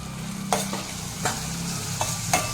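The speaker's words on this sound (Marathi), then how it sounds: "सगळं मिक्स करून घ्यायचं" Malvani egg masala with onion, turmeric, red chilli and Malvani garam masala stirred in a pan, a steady sizzle broken by three or four sharp scrapes of the spoon.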